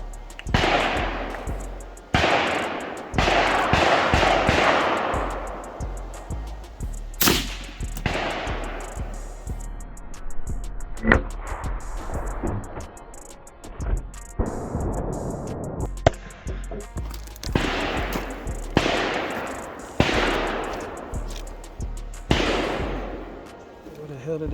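A 22 Magnum (22 WMR) rifle with a 16-inch barrel fires a series of sharp, loud outdoor shots, each followed by a decaying echo, spaced several seconds apart.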